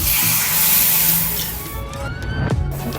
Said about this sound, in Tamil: அதில் கொஞ்சம் தண்ணி ஊற்றிக்கலாம்.